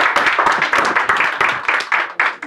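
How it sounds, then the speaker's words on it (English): Audience clapping at the end of a spiritual lecture, a small group's close, crisp handclaps in a quick irregular patter, loud and alone. "Now you can clap."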